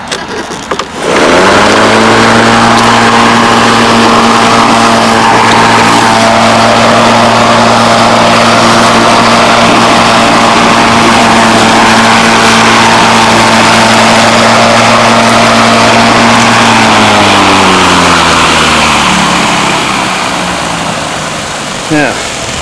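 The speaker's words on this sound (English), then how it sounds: "this is what the mower sounds like" A battery-powered electric lawn mower hums with a steady electric whine and whir, running continuously for most of the clip before spinning down at the end.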